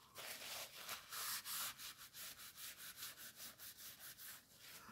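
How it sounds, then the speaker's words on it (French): An eraser rubs back and forth across paper in quick, regular strokes, a dry, steady scrubbing that keeps a close, even rhythm for several seconds with no voices. "je vais sortir une gomme et puis je vais gommer"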